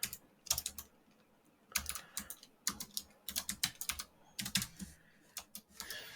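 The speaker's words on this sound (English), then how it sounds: "Sorry, the keyboard's higher, so it's hard for me to type." Fingers tapping on a computer keyboard set a little too high, close and clear, coming in uneven bursts of quick clicks separated by short pauses, with no voices.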